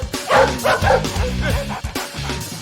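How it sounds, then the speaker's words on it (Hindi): A dog yaps and barks in short repeated bursts from inside a car, close and fairly loud, mixed with a voice in a comedy scene. "गाड़ी के अंदर बैठ के भौंक रहा है"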